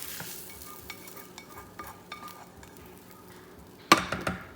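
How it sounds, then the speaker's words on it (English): Faint sizzling and light scraping in a pot of borracho beans, ending in a sharper clattering stir as bacon, tomato and jalapeno mixture goes in; close, quiet, no talking. "We're gonna stir it up a little bit."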